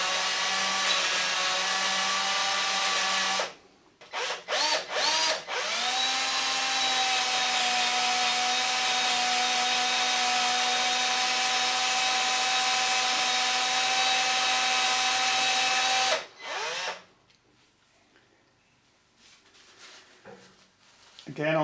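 A drill turns slowly as it bores out a steel grub screw, a steady whirring hum that runs long after a few short stop-start bursts, then cuts out to quiet handling noises.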